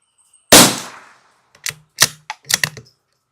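A Savage Mark II FV-SR rifle with a freshly bedded stock and re-crowned barrel fires one sharp, close shot of SK Long Range Match ammunition. A few brief metallic clicks from the bolt action follow.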